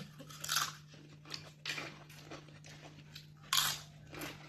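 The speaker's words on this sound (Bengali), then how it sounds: "সব কুড়মুড় কুড়মুড় করে আওয়াজ আরম্ভ করে দিয়েছে পাঁপড় ভাজা খেতে গিয়ে" Crisp fried papad being bitten and chewed up close, several separate crunchy bursts in an uneven rhythm over a low steady hum, no talking.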